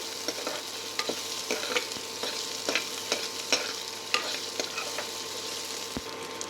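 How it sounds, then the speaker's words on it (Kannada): Onions and chillies fry in a pan for a winged bean stir-fry: a steady, close sizzle broken by frequent clicks and scrapes of stirring, with no voices. "ಈಗ ಈರುಳ್ಳಿ, ಮೆಣಸಿನಕಾಯಿ ಚೆನ್ನಾಗಿ ಬಾಡಿಸಿಕೊಂಡಿದ್ದೇವೆ."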